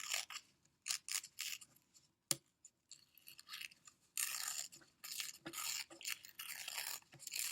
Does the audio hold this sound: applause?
no